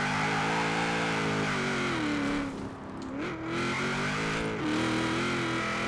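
A V8 LS engine in an HVS GTSR, a 1000-horsepower drift build in Forza Horizon 4, drones steadily at high revs, with pitch dips and swells as the throttle lifts and reapplies, loud and continuous throughout.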